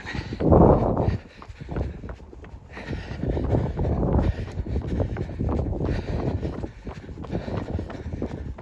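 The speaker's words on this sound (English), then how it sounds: "This is so windy." Strong wind buffeting the microphone on a Mt Ascension mountain trail, low rumbling gusts with a loud burst at the start, then steady blowing mixed with footsteps and breathing.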